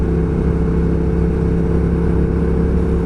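A Triumph Thruxton R motorcycle cruises along a road, its engine a steady, loud, unbroken drone mixed with wind rush for the whole stretch.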